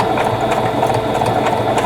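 A new sewing machine runs continuously at a steady pace, a close, even whirring hum with rapid needle chatter sewing a wide stitch for applique, with no talking.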